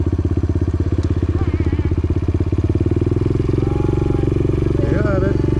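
A motorcycle idles and revs loudly up close on a trail with a rapid, rough putter while a beginner rider works the clutch and throttle, and people talk over the engine.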